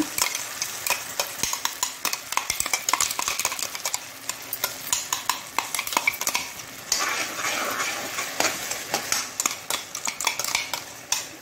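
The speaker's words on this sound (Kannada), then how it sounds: "ಹೀಗೆ ಕಂಟಿನ್ಯೂಸ್ ಆಗಿ ನಾವು ಇದನ್ನು ಸ್ವಲ್ಪ ಈ ತುಪ್ಪದಲ್ಲೇ ತಿರುಗಿಸ್ಕೊಳ್ಬೇಕಾಗ್ತದೆ" A spoon stirs jackfruit halwa paste, made with eendu powder, through ghee in a pan. The stirring is a steady run of close scraping and clinking strokes against the metal over a faint sizzle, with no voices.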